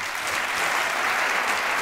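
An audience applauds sponsor companies at a business conference, steady dense clapping filling the hall throughout with no voices on top.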